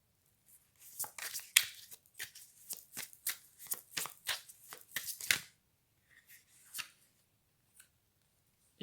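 Tarot cards being shuffled by hand, a rapid series of crisp riffling, slapping card sounds over several seconds, close and clear, followed by a few softer, scattered card handling sounds.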